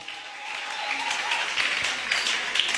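A church congregation applauding loudly and continuously in praise of God, a dense wash of clapping that swells slightly toward the end, with faint voices mixed in.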